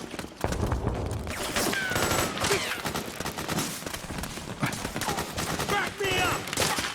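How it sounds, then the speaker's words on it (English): Dense, continuous gunfire and rattling automatic weapons in a Metal Gear Solid 4 battle, loud and chaotic throughout, with occasional shouted voices in the mix. "Suppressing fire!"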